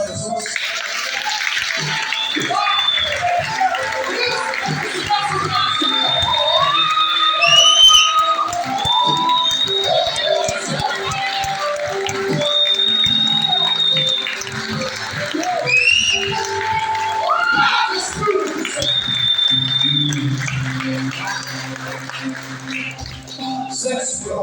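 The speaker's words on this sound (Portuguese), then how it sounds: "Bota palmas para Jesus." Congregation clapping along during a Portuguese-language church service, a steady wash of hands under sustained music and singing voices that runs the full length at moderate loudness.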